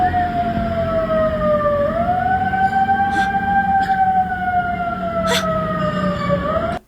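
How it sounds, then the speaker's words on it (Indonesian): Loud, close, continuous wailing siren from a motorcycle on the road, its pitch slowly rising and falling over a steady traffic rumble before cutting off abruptly. "yang pakai sirine itu asalnya dari motor ibu ini"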